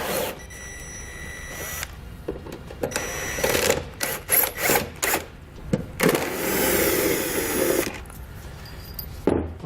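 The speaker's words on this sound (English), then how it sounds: "We want to get a Phillips bit and we can pull those 2 screws out." A power driver with a Phillips bit backs screws out of a taillight assembly on a 2018 Jeep. It makes several short whirring bursts and one longer spin, close by, with clicks and handling noise between them.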